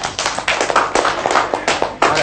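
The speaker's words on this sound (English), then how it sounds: "Girls, boys, give them a very big clap." A primary school class of young children claps hands together in fast, dense, uneven applause that stays loud and close throughout, filling the room with no talking.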